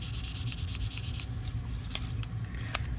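Fine 2000-grit sandpaper rubbed over a Victorinox Executive knife to smooth out scratches, a close, continuous scratchy rasp with quick back-and-forth strokes.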